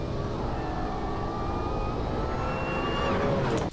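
A Shelby Mustang's supercharger whine rises as the car accelerates, thin pitched tones climbing steadily over a loud engine roar, close and continuous, with no talking.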